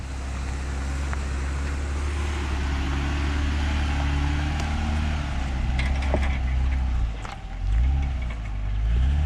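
A 2020 Jeep Gladiator Rubicon in four-wheel drive climbs a steep, slippery muddy slope, its engine a deep steady rumble that surges briefly near the end, with clunks and rattles over it.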